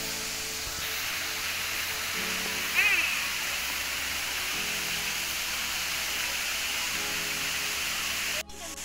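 Rushing water of the Yinhe waterfall along a hiking trail to Yinhe cave, a constant hiss-like roar heard from a moderate distance, steady throughout with a brief clatter near the end.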